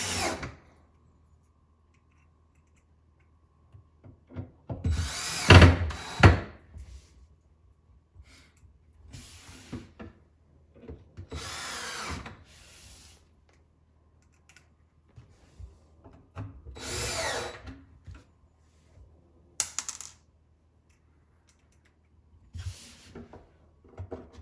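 Power drill driving screws diagonally into a wooden lower drawer during installation, heard as several short bursts of whirring and grinding spaced out between quiet pauses, close and moderately loud.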